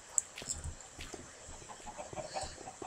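Chickens in the Minecraft video game cluck in short, soft bursts scattered over a few seconds, heard faintly against low background noise with no speech.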